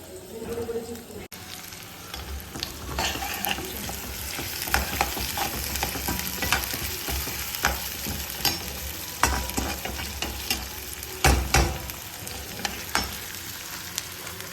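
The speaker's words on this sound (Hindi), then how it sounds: "अभी मैं स्टार्टिंग में पहले डालूंगी थोड़ी सी मेथी और जीरा" Fenugreek and cumin seeds crackle and sizzle in hot oil for several seconds, with scraping and stirring clatter from the pan mixed through the steady frying noise.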